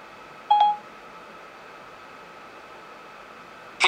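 An iPhone on iOS 8 gives a brief reminder alert tone, a short bright chime near the start and a second one at the very end, both standing out clearly over a faint steady hiss.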